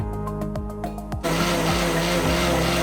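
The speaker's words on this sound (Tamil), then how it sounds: "1 ஸ்பூன் சோம்பு, அதுக்கப்புறம் 1/2 ஸ்பூன் சீரகம், இதோட கசகசாவும் கொஞ்சம் சேர்த்து அரைச்சு எடுத்துக்கங்க" A mixer grinder grinds fennel, cumin and poppy seeds. Several quick whirring pulses come first, then a loud, steady, close motor roar takes over for the rest, with no talk.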